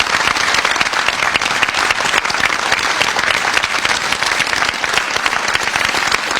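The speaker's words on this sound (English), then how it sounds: "Let's give them all a round of applause." A large outdoor crowd at a D-Day commemoration at Omaha Beach applauds World War II veterans, loud, dense and sustained clapping that holds at an even level throughout with no talking.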